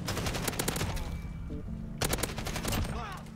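An AK74u fires in Call of Duty: Modern Warfare: close, loud bursts of rapid automatic shots with a short pause between volleys, all on a continuous game soundscape.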